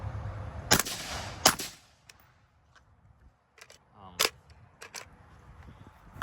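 Two suppressed gunshots from a rifle with a 16-inch barrel fitted with a SilencerCo Omega 36M, sharp loud cracks about a second apart at an outdoor range, followed by quieter distant pops and clicks.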